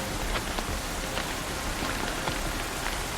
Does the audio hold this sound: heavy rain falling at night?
yes